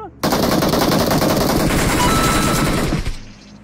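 Sustained automatic gunfire from the BGMI mobile battle royale game, a loud, dense burst of rapid shots lasting about three seconds before cutting off abruptly, with faint talk around it.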